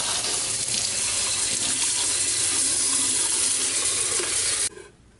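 A faucet runs steadily as an item is rinsed out in a sink, a continuous full hiss of water that cuts off abruptly near the end, leaving a faint room tail.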